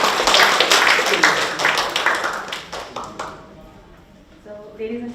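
Audience at a book discussion claps for a guest speaker, a burst of loud clapping that thins out and fades after about three seconds, with voices murmuring beneath.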